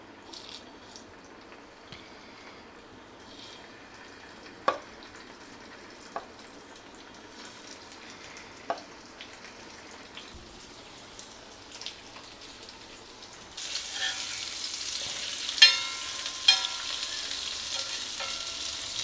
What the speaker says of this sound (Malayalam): എണ്ണ ശകലം ചൂടായിട്ട് ചിക്കൻ ഇടുക.